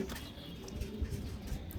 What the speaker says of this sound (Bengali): এই যে রেসার কবুতর এটা হলো অরিজিনাল রেসার কবুতর